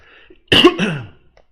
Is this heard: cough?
yes